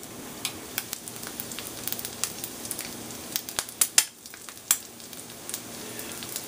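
An egg fries inside a slice of bread in a hot pan for French toast toad-in-the-hole, giving a steady soft sizzle dotted with irregular crackles and pops, with no voices.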